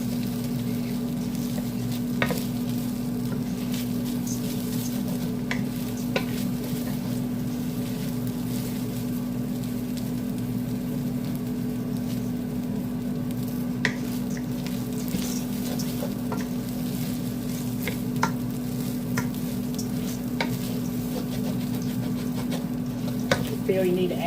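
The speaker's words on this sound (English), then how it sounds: "Starting to fry up." Butter frying in a pan while dinner is cooked, a steady close sizzle with a constant low hum underneath and occasional light clicks and scrapes from stirring.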